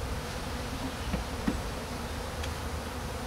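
Honeybees buzz in a dense, continuous hum throughout a hive inspection as the brood chamber is opened. The swarm sound is steady and close, with no voices.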